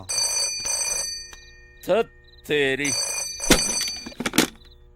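A telephone rings in short repeated bursts, interrupted by a voice speaking between the rings.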